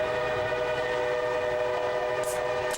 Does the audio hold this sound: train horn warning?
yes